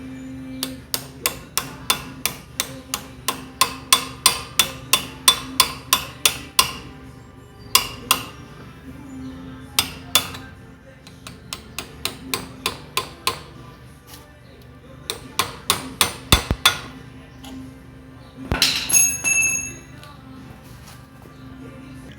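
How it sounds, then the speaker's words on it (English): Metal punch hammered against a bolt on a Progressive Pro Flex 120 rough mower, a long series of sharp, ringing taps in quick bursts with short pauses, fairly close and alone. "you're probably going to need some type of punch and tap that bolt out"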